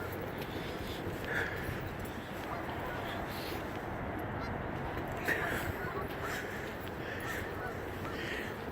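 Geese honk in scattered calls at a moderate distance on a flooded Charleston riverbank where the water has receded to sand, set against steady wind and broadband outdoor noise.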